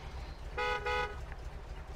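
A truck horn in the video game MudRunner sounds twice in quick succession, two short loud toots close together, over a low engine rumble.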